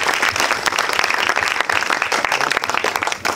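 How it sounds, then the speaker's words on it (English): A church congregation claps in praise, producing loud, vigorous applause with sharp individual hand claps standing out in a continuous rush of many hands. "Let's give the Lord a clap of praise."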